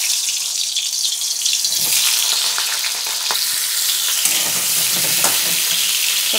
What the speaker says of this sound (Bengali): তাতে সরষের তেল দিয়েছি। পটলগুলো ভেজে নেব।